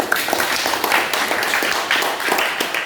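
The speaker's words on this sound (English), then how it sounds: "Please, let's give him a round of applause." Audience applause at a community gathering honoring a doctor, with dense, continuous clapping from a crowd holding steady for about three seconds before cutting off.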